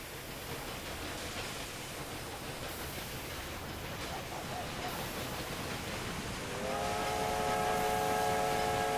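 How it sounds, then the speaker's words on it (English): A freight train carrying cattle passes in the railway game Railroad Empire 2, a steady rolling rumble that swells louder and is joined near the end by a sustained multi-tone whistle. "That's a freight train with lots of cows on board."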